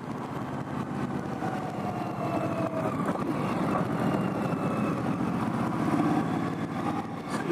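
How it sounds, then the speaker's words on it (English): A 2018 Indian Scout Bobber motorcycle engine running on the road, a steady, moderately loud low rumble with a continuous throb and no talking. "It's so torquey, it's so easy to ride."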